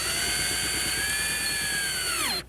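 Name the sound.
driving screws to secure a skylight roof dome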